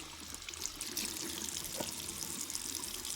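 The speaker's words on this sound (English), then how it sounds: "we are going to wash this sponge. So you just wet it." Running bathroom tap water wetting a makeup sponge, a steady, faint hiss of flowing water held throughout.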